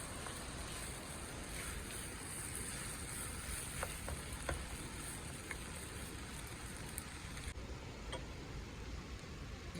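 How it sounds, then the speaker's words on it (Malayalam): Boiled potatoes mashed and stirred in a hot pan for masala dosa filling, a steady low sizzle with scattered scraping ticks and taps, no voices. "ഇനി നിങ്ങൾക്ക് വേണമെങ്കിൽ ഉരുളൻകിഴങ്ങ് ഉടച്ച് മിക്സ് ചെയ്ത് കൊടുക്കാം"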